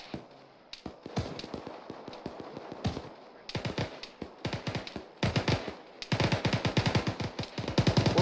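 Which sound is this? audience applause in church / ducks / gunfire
gunfire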